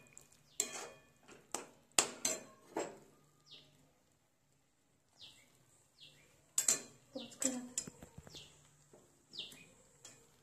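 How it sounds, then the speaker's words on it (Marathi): Utensils clatter and scrape against a pan as ingredients are stirred and mixed during a home cooking competition, coming in irregular bursts of clinks and knocks with short pauses and a faint chirping in the background. "छान पैकी मिक्स करून घेऊया आपण।"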